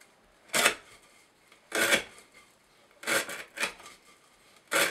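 Five rasping strokes of a CRKT Shenanigan knife with Acuto steel and hollow grind cutting through fibrous rope, each a short scratchy burst with brief pauses between, close up and without speech.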